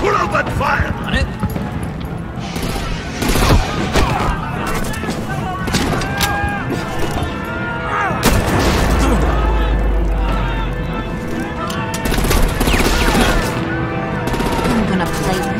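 Gunfire in the video game Batman: The Enemy Within rattles in fusillade-like bursts through a busy action scene. Characters shout and talk over the shooting.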